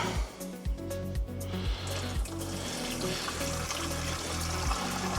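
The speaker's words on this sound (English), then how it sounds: "we'll put in half of our water" Water pours steadily into a lawn sprayer tank, a close, continuous gushing and splashing broken by small regular knocks and gurgles as it fills.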